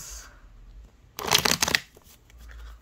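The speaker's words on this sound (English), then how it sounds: "then I overhand shuffle like so" Tarot cards being overhand shuffled by hand, a dense burst of crisp papery slaps and flutters lasting under a second, close and fairly loud, with quiet room tone before and after.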